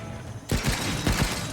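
Defensive turrets in Stranded: Alien Dawn open fire after a sudden onset, several sharp shots in quick succession standing out over a steady background wash, fairly loud and close.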